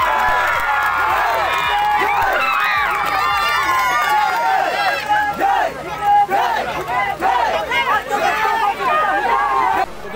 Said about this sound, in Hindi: एक बार ताली हो जाए सब लोग।